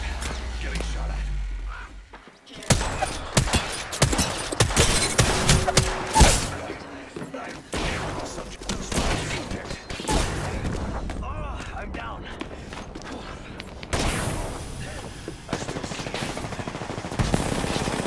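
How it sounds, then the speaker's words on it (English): Bursts of video game gunfire crackle through a long-range firefight, a loud boom opening the stretch, then dense rattling volleys and shots that come and go with short lulls, quiet voices heard beneath. "Getting shot at."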